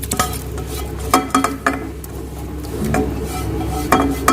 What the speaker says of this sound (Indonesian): Kemudian kita aduk.